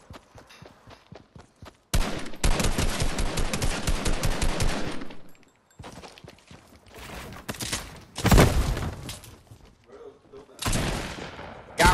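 Fortnite gunfire rattles in loud rapid bursts, including a long automatic spray and several sharper shots, with a voice talking in the pauses.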